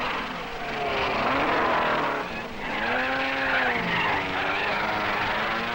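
1961 Ferrari Formula One race cars at Monaco, engines screaming as they chase nose to tail through the streets, pitch swooping up and down in close succession, loud with crowd and echo around.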